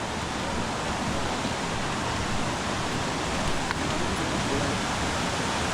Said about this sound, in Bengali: এখন ওই যে ঝর্ণা দেখা যাচ্ছে উপরে,